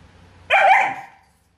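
Giant Alaskan Malamute of over 70 kg lets out a single loud, close bark, a deep full woof that trails off within about half a second.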